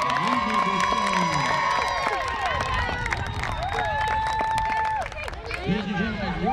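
Crowd cheering at a women's college soccer senior day ceremony, with excited shouts, whistles and high-pitched calls layered over clapping. The noise stays loud and dense throughout, with voices hollering above it.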